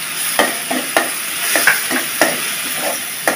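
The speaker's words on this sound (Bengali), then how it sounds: "একটু ভেজে নিলাম" Chopped garlic sizzles steadily in hot oil in a pan, with a spoon scraping and stirring in an irregular rhythm of soft clicks, close and alone with no talking.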